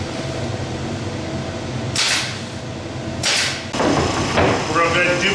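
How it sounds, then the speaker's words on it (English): A pin nailer fires 1-inch pin nails through plywood: a few sharp, close pneumatic bursts spaced apart, each a quick hiss and snap, over a steady background hum. "What I'm doing is shooting 1-inch pin nails straight through in through this, through the plywood into the other side"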